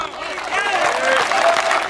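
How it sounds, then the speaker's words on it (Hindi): At a Hindi stand-up comedy show, the crowd claps in a short, full burst of applause that swells slightly and stays dense for about two seconds, with some voices mixed into the noise. "बहुत अच्छे, तालियां।"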